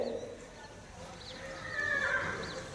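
At an outdoor riding clinic, a horse gives a high whinny partway through while hooves clop at a walk, with faint voices and a dull background hum.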